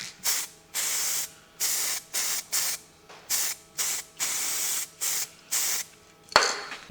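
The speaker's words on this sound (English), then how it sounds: "I'm going to spray them so they don't go rusty." Repeated short bursts of aerosol spray paint onto metal parts from an Austin J40 front axle, about ten hisses of roughly half a second each with brief pauses between, close and fairly loud.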